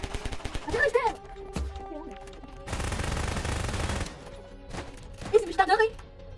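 Gunfire in the game Garry's Mod on a multiplayer horror map, a sustained burst of rapid shots in the middle with scattered clicks and game noises around it, and voices excitedly talking over the action.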